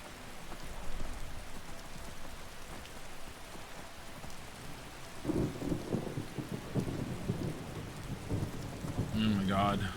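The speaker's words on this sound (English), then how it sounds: "The rain." Steady rain pours with low rolling thunder in the Skyrim Special Edition game world, the rumble swelling midway, while a person speaks briefly over the storm.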